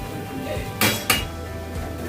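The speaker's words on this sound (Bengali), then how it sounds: "খুন্তি মারানো হচ্ছে।" A metal spatula clanks twice against a cooking pan during ghee-finished mutton tahari preparation in a home kitchen, two sharp close strikes over a low background hum.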